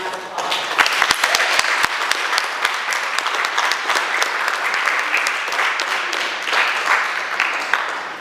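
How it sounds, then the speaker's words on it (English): A live audience at a poetry artist talk breaks into sustained, dense applause. The clapping stays full and even for the whole stretch, with a few sharper claps standing out near the start. "Y'all give them a round of applause."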